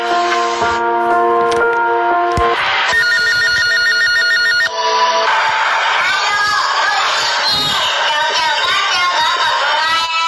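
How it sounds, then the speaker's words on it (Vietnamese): A telephone rings loudly with repeated electronic trills in a children's lesson about polite phone calls, followed by a different bright ringtone melody, with a noisy crowd of children shouting and talking beneath it. "bạn Tâm khi gọi nhầm điện thoại đến nhà người khác"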